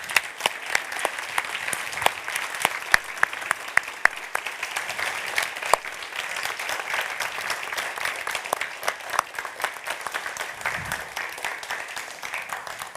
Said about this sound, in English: rounds of applause for them